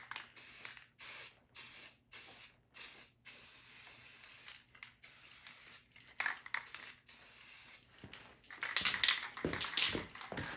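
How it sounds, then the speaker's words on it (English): An aerosol spray paint can hisses in a series of short, even bursts while touching up a battery charger, then longer sprays with faint clicks and rattles between them. "I'm just going to give it a little spray just to touch it up a little bit"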